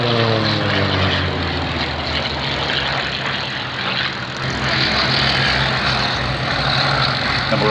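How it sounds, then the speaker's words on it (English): A Hawker Sea Fury fighter with a 2,480-horsepower Bristol Centaurus radial engine flies past at an airshow. Its loud, deep propeller drone holds steadily, dips briefly, then swells again with no voices. "the Royal Navy continued with the Sea Fury aircraft. 2480 horsepower Centaurus engine."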